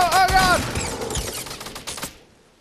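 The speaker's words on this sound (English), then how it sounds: "There's a guy shooting at you, Mikey." Rapid bursts of automatic gunfire in a video game, loud and close for a couple of seconds before tapering off, with voices talking over them.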